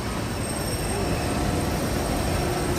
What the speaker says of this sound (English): there goes the monorail now